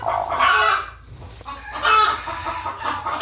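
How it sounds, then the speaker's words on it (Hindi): A brooding hen sitting on eggs clucks repeatedly in close, throaty bursts, pausing briefly between calls, with no talking. "यहाँ पे ना लूसी अंडों पे बैठ गई है"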